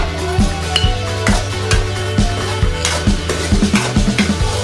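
Vegetable masala Maggi noodles frying in an oiled pan, a spoon scraping and clanking against the metal in repeated strokes over a steady close sizzle.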